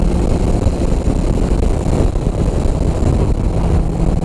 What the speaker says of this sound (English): Listen to that induction sound!